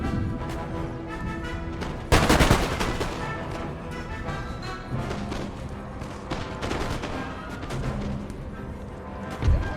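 Volleys of musket and artillery fire crash out across an Empire: Total War battlefield, led by one big booming salvo near the start, then steady, dense crackling gunfire with scattered heavier blasts, and a final loud boom at the end.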